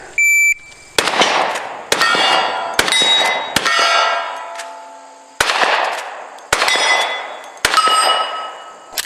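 A Marlin 1894 Tactical lever-action rifle fires seven loud shots at steel targets on a range, each crack followed by a ringing metallic clang; a shot-timer beep starts the string and the strikes come roughly a second apart.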